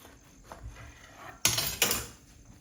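A knife slices through a homegrown tomato, two crisp cutting strokes close up about a third of a second apart after a quiet start.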